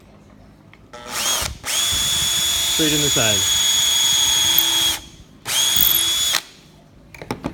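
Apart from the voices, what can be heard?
power drill drilling a hole in lumber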